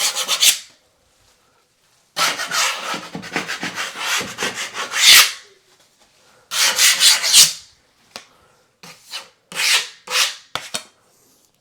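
A drywall knife scrapes a patched nail pop or anchor spot on an interior wall during repainting, giving several bursts of rough rasping strokes separated by short pauses, close up and alone.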